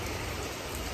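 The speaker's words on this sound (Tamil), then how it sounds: "இங்கே பாருங்க மழை பெய்யுது." Steady rain falls outside as a dense, even hiss of drops with no breaks and no voices.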